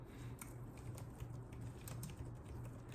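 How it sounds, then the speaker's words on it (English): Quick, light keystrokes patter on a computer keyboard in an irregular run over a faint steady hum, close and quiet, with no voices. "Let me type that in."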